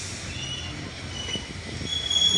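The 727 Up Rupsha Express at Domar Railway Station, a close rumble of rolling wagons with high metallic wheel squeals and a steadily rising clatter.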